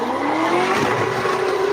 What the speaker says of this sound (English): Engines revving, vehicles spinning, rubber burning, fireworks exploding.